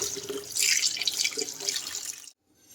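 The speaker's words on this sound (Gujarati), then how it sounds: "હવે એને આપણે ધોઈ લઈએ" Chopped ivy gourd and potato rinsed under a running kitchen tap, a steady splashing water stream with dripping and sloshing that stops abruptly near the end.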